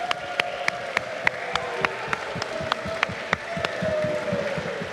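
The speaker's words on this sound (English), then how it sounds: "Round of applause, guys!" Live crowd applause and cheering welcoming players Quick and SBF to the stage at a Super Smash Bros. Ultimate UK invitational final in London, sharp individual claps near the front over a broad roar that swells toward the end.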